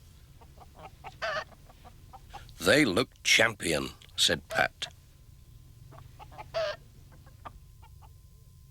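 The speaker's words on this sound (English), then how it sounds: "George Lancaster showed Pat his special prize hens" Prize hens cluck on a farm in short soft bursts, with a voice talking over them.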